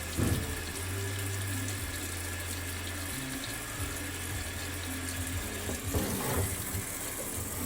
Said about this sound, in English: Flush the bottom first because it shoots a bunch of carbon into the bucket.